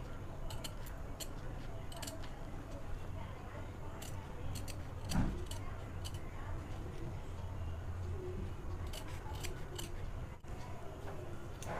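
Scissors snip through fabric to shape a net neckline design, with repeated sharp, close cutting clicks in irregular bursts over a quiet background and a soft thud midway.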